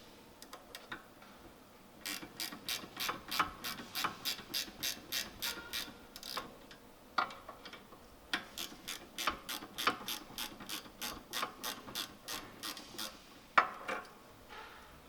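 Rapid ratchet clicks in bursts while a brake caliper bolt is loosened on a 2019 Lexus RX350 during a rear brake pad and rotor job, close up, with pauses between runs and a few sharper clicks near the end.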